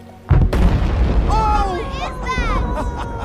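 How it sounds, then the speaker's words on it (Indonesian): A building blown up on purpose by fighters in 1945 Indonesia, heard as one sudden loud boom near the start, followed by a rumbling tail while someone speaks over it. "pasukan pejuang sengaja meledakkan bangunan itu"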